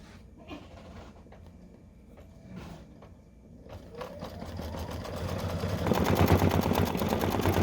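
A single-needle embroidery machine stitches a cap held in a Durkee cap frame: after a few clicks and knocks, a rapid mechanical chatter starts up and builds to a steady, loud, close stitching rhythm.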